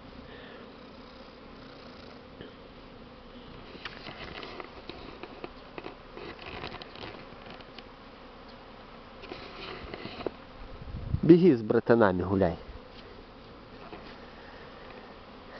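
Honeybees fly around hives at the start of the season, a soft continuous buzzing hum in the background, with a brief louder bump of handling noise and some speech partway through.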